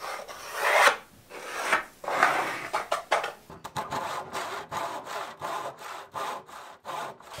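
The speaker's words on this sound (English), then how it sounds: "And then sanded those so they were nice and flat using a belt sander." A belt sander works wooden divider pieces for a truck bed camper storage compartment, producing close, raspy abrasive passes that swell and fade, then quicker repeated strokes.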